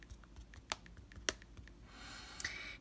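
Keys clattering on a computer keyboard while searching online, a quick irregular run of faint clicks with a few sharper taps, close and quiet with no talk.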